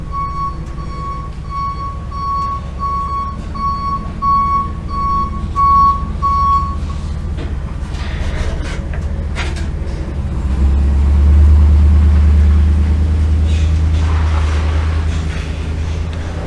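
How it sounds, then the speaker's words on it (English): A big truck pulls in close outdoors, its reversing beeper pulsing steadily for several seconds before the diesel engine rumble swells louder and deeper, then settles into a heavy idle. "a big truck just moves right in, starts making all the noise on the planet"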